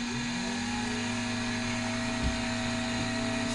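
An aircraft's electric fuel pump runs during engine start preparations, a steady close whine with a constant hum underneath and no talk over it.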